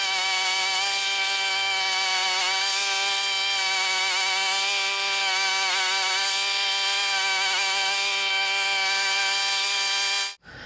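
A rotary lawn mower cutting long, wet zoysia grass drones loudly and steadily with a constant engine tone, then cuts off abruptly at the end.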